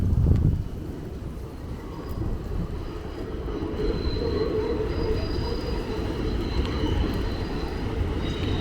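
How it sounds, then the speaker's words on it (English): An elevated D subway train rumbles past nearby at 86th Street in Bensonhurst, Brooklyn, with a continuous heavy roar and faint metallic squeals from the wheels, steady throughout. "Getting some good sounds of that train."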